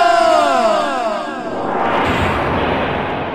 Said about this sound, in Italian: Urlo libero per Ayrton!